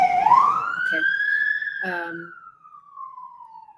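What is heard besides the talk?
siren passing by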